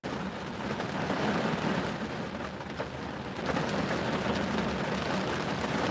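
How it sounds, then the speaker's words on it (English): Steady rain pours down in a constant, dense hiss with no voices, even and unbroken from start to finish. "Y'all can hear the rain?"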